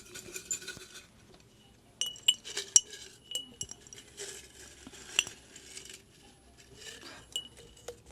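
Paper slips are stirred inside a TBR jar, producing intermittent glassy clinks and light rattling taps in irregular bursts with quiet pauses, fairly soft and close.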